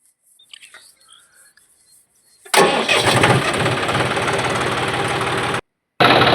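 A John Deere tractor engine on a farm field cranks and catches after faint quiet rustling and birdsong, then runs loud and rough at a steady idle, with a short cut before it resumes.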